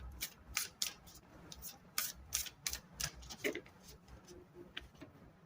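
Tarot cards are shuffled close up, making quick, crisp riffling snaps and slaps in short irregular bursts, fairly quiet.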